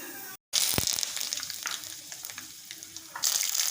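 Oil sizzling and crackling in a hot pan while making masoor dal, a steady bright hiss after a brief silent gap, with small clinks and pops, swelling louder again toward the end.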